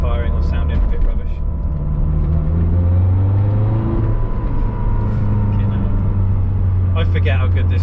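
A car engine idles with a deep, steady rumble and rises briefly in pitch as it is revved, close and loud from start to end, with a few faint clicks over it.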